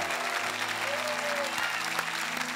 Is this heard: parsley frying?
no